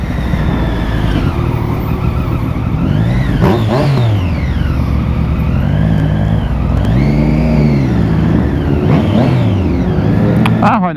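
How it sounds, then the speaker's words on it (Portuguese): Motorcycle engines, including a Honda Hornet, rev and rise in pitch repeatedly, sweeping up and down over a steady roar, with voices mixed in underneath. "Ouvi motos do outro lado, mas não dando pra ver o que que era."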